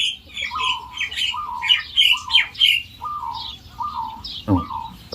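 Bird calling loudly outdoors, a string of harsh squawks and chirping phrases repeated close by with brief pauses, one low thud near the end.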